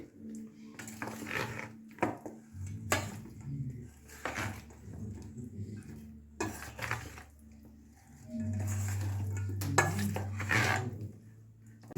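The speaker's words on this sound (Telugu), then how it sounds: "ఈ మిశ్రమాన్ని ఈ ముక్కలకంతా బాగా పట్టేటట్టు కలుపుకోవాలి" Paneer pieces being tossed with a marinade in a bowl, giving intermittent clinks and scrapes of a utensil against the bowl with soft wet mixing sounds, a low hum running underneath.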